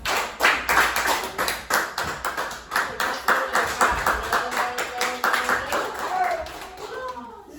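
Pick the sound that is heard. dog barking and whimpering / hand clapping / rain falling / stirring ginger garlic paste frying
hand clapping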